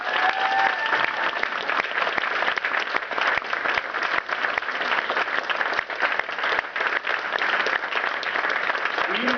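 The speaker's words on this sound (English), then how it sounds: "Let's give her another round of applause." A sustained round of applause from an audience at a Universal Peace Federation event honoring an ambassador for peace, dense steady clapping lasting throughout.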